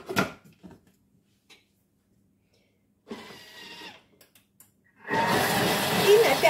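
A kitchen food processor mixes a nutmeg-seasoned mixture for salmon lasagna at speed five. It gives a brief loud motor whir after near silence, then a longer sustained burst close by.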